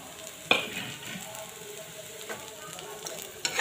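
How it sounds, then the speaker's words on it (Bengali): Maggi noodles with potatoes frying in a pan as they are stirred, a soft steady sizzle broken by a sharp scrape near the start and clinks of the spoon later, close by with no talk. "অলপ এনেদৰে ভাজি"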